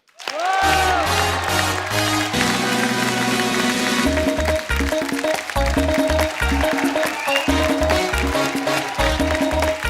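Studio audience applause welcomes Esha Deol on a comedy talk show, a constant rain-like patter of many hands under loud, punchy entrance music with heavy, rhythmic bass hits.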